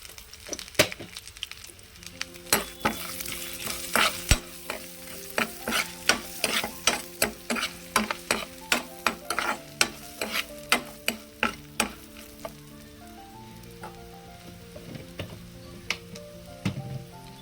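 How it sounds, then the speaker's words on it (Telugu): Garlic, curry leaves, dried red chilli, seasoning seeds and turmeric frying in hot oil for a tempering, with a steady sizzle and a long run of sharp, rhythmic spoon taps against the pan, close and clear. "ఇప్పుడు తాలింపు ప్రిపేర్ చేసుకుందాం."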